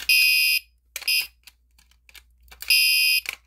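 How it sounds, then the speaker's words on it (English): Simplex break glass pull station setting off a fire alarm: loud, piercing electronic tones in separate bursts with short silent gaps between them, close and alone with no talk. "if I turn the simplex B key right here, and basically if it activates, the alarm will sound"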